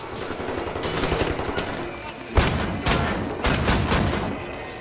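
Rapid blasts from an automatic shotgun in the shooter game Wolfenstein: The New Order, a few loud bursts cutting through a busy, noisy game mix.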